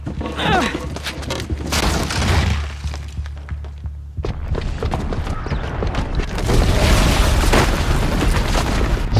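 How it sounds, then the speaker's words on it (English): Massive bomb blast in Horizon Zero Dawn on PS5, set off by a booby trap downstairs: loud booming detonations with crashing debris and rumble, a brief lull, then a second sustained wave of roaring, crackling destruction filling the scene. "the booby trap on the bomb downstairs is gonna get set off"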